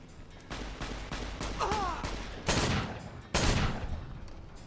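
Gunfire in Fallout: New Vegas: a burst of sharp, loud shots at the start, then two heavy booming blasts a second apart, with a faint whistling tone between them.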